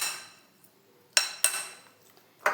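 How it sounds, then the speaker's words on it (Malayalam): A spoon mixes omelette ingredients, two eggs with chopped shallots and half an onion, in a bowl, giving a few sharp metallic clinks against the bowl between soft quiet stirring. "സ്പൂണെടുത്ത് നല്ല വൃത്തിയിൽ നമുക്ക് ഇതെല്ലാം യോജിപ്പിച്ചെടുക്കാം."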